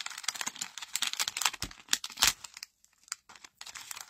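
A plastic sticker pack crinkles and crackles in quick, irregular bursts while a stuck sticker is worked free, close and fairly loud, with a brief quieter gap.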